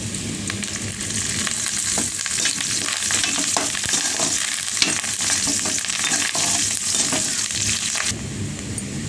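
Onions and curry leaves sautéing in a hot pan, a constant close crackling sizzle with bursts of stirring and spatula clatter, no voices.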